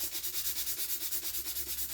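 Rhythmic back-and-forth sanding of a sewing box with a 220 grit sanding sponge, a fast, steady scratchy rasp repeating about eight times a second, close and continuous.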